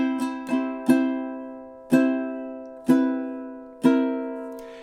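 Ukulele strums at measures 16 into 17 of the Hawaiian song "Loke Lani": six crisp chord strikes, a quick triplet-like cluster followed by evenly spaced downstrokes, close and clear with ringing decay.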